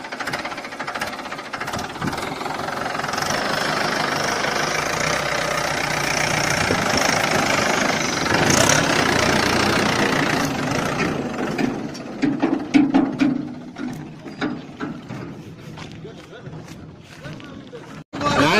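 A tractor engine runs steadily nearby on agricultural land, a continuous rumbling idle under people talking, with engine knocks and rattles toward the end.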